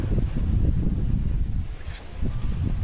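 Strong monsoon wind buffeting the microphone with low rumbling gusts, steady and close, with faint rustling.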